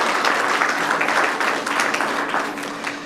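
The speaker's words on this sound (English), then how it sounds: "How about a round of applause for our election professionals?" Audience applauding election professionals at a 2021 oath of office ceremony, steady dense clapping throughout, fairly loud and close, with no talk over it.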